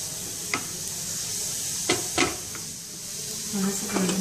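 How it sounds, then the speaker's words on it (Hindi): Cumin seeds sizzle and crackle in hot oil while jeera rice is cooked, giving a soft, continuous frying hiss broken by a few sharp pops and stirring clinks. "अभी हम उसमें जीरा डालेंगे। जीरा पूरा फूटने तक"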